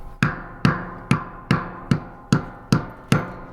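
A hammer strikes a cast solid gold Lego-style brick eight times in a steady rhythm, each sharp, ringing tap close by and decaying quickly before the next blow.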